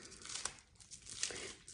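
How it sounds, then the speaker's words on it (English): A plastic bag used as a hair wrap rustles and crinkles softly in a couple of short bursts, faint and close with no voices. "Got a plastic bag for y'all"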